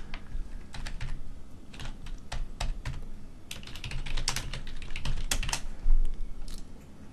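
Form fields are filled in on a computer keyboard, and the close, steady clicking carries on for several seconds. Quick runs of taps alternate with single sharper keystrokes over a faint room hum, with no talking.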